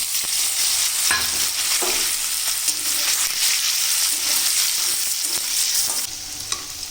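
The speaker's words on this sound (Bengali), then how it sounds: "আমি এখানে দিয়ে দিচ্ছি সাদা তেল এটা হচ্ছে সূর্যমুখী অয়েল আর কি টুকরো করে রাখা পনিরগুলো দিয়ে দেবো" Cubes of paneer frying in hot sunflower oil in a pan, a loud steady sizzle with stirring scrapes throughout and no talk.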